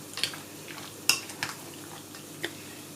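Whole pistachio nuts being mixed into a salad, a few soft, scattered clinks and scrapes of utensils against a bowl, faint and close in a quiet room.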